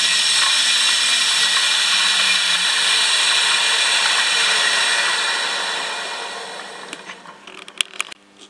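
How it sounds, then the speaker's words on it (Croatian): An electric motor with a clutch, driven by a frequency regulator, runs with a loud steady whine and hum that fades after about five seconds, followed by a few faint clicks. "motor uključujemo"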